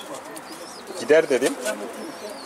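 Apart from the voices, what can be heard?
captured bird, likely pigeon, cooing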